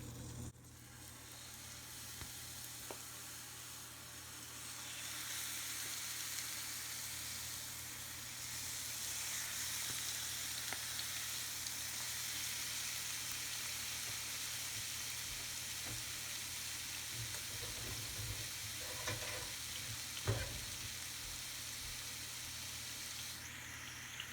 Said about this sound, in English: Got my chicken right here, and you're just gonna start placing it in the pan.